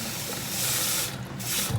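Cold water pours and splashes steadily into a container, a close, continuous gushing sound with slight changes in flow.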